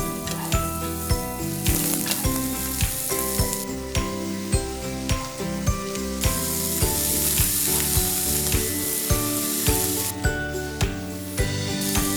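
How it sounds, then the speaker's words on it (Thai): Chikuwa pasta stir-fried with curry powder in a hot pan, steady loud sizzling with repeated scraping and tossing of the utensil against the pan throughout. "เดี๋ยวเราไปผัดกันได้เลยครับ"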